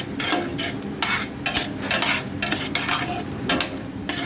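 Ingredients for a bolognese sauce are stirred in a hot pan: a steady sizzle of frying under repeated scraping strokes of a utensil, close and fairly loud.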